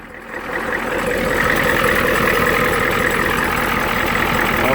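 A 1990 Ford Lariat pickup's naturally aspirated 7.3 IDI International Harvester diesel idles close by, a steady, loud, rattling clatter with a low throbbing rumble throughout and no talk.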